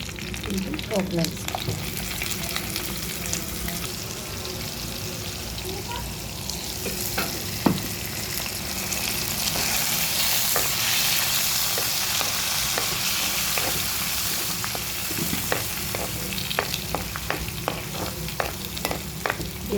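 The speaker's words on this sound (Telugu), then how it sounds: "ఇది కొంచెం వేగిన తర్వాత తీసి పెట్టిన దొండకాయలు నూనెంతా పోయిన తర్వాత" Ivy gourd frying in hot oil gives a steady, loud sizzle throughout, broken by frequent sharp clinks and scrapes of stirring.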